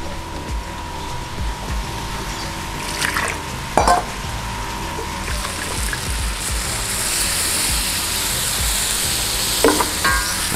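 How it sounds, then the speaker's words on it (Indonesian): Gado-gado peanut sauce being stirred in a pan, a steady close sizzle and scraping swirl that holds throughout, with a few sharper utensil knocks near the start and end. "Kita aduk sampai dia kering ya."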